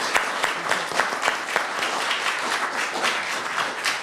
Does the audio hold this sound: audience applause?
yes